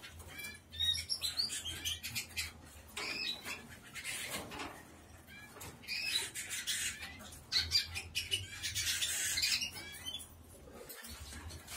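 Pet birds kept indoors chirp and squawk in busy overlapping bursts, fairly faint, with steady low room hum beneath.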